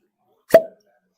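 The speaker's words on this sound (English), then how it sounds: "That was a really good cork pop." A cork pops from a bottle of Old Grand Dad 114 high-proof bourbon: one sharp, hollow plop up close, ringing briefly and then fading into silence.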